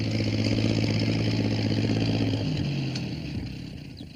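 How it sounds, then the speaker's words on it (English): Tractor engine labouring through floodwater on a rainy day, a steady mid-pitched drone held loud and close, its pitch sagging and easing off toward the end. "He's going to try to get through with his tractor."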